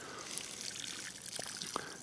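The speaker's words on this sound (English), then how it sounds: "I'm going to take my solution of water that has the root hormone in it, and I'm just going to give it a good drink here." Water solution laced with rooting hormone trickles and pours onto a freshly planted plant outdoors, a soft continuous dribble with a couple of brief splashy drips near the end.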